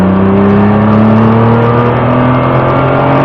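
A Nissan GT-R with a 3.8-litre V6 rated at 550 hp accelerates on a circuit, its engine note droning steadily and loud, with the pitch rising gradually throughout.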